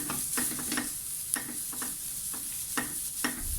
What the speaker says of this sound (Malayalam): നമുക്ക് ഇനി ചതച്ച് വെച്ച തേങ്ങ ഇട്ട് കൊടുക്കാം. നന്നായിട്ടൊന്ന് ഇളക്കണം.